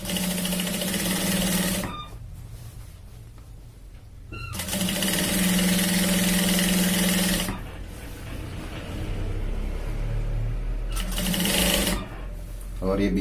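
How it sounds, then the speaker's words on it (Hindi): A sewing machine stitches a folded seam on a shirt in several long loud runs broken by short pauses, close up, while a person talks over and between the runs. "तो इस तरह से मोड़ की सिलाई लगाएंगे"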